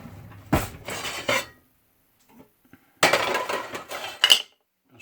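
A small spoon clinks and scrapes against a dish while a winter salad is prepared, in two separate bursts of close, sharp rattling with a quiet pause between them.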